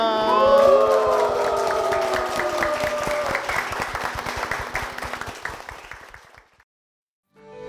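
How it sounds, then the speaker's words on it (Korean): Church congregation applauding and cheering in praise, loud clapping with whoops under lingering music that fades out, then near silence before a faint return at the end. "주님께 영광의 박수를 드리겠습니다"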